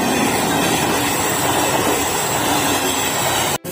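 Train passing a railway crossing gate in India, a steady loud rumble of rolling wagons close by, continuous without talk and cutting off briefly near the end.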